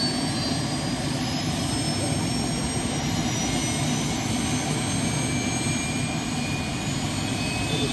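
A New Jersey State Police helicopter roars steadily at takeoff, a loud, continuous engine and rotor wash filling the whole stretch, close and unbroken.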